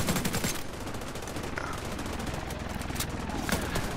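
Gunfire from a weapon in The Division 2 video game: rapid automatic bursts with repeated sharp reports, loud and close, running through the whole stretch with a few distinct heavier shots standing out.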